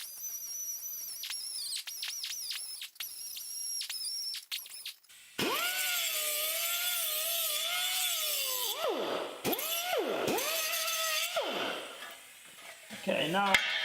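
A power tool, likely a sander or grinder, works paint off a 1959 VW Beetle body panel, starting with short bursts and then running steadily with pitch dips as it bears into the metal, close and loud.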